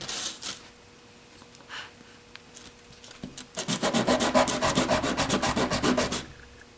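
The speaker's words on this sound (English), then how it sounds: "take some sanding paper and just" Sandpaper rubs along the edge of a tricopter frame, beginning with faint scattered scrapes, then turning into a quick, close rhythm of sanding strokes for several seconds before it stops.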